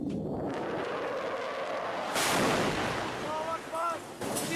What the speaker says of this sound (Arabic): لواء حذيفة بن اليمان قام بتدمير دبابة